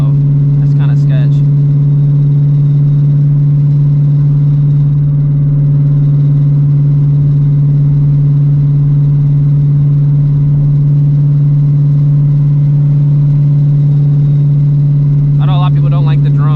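A 900 HP Shelby GT350 drones steadily while driving, a loud constant low hum with a strong fixed pitch filling the cabin, and brief voices come in at the start and end.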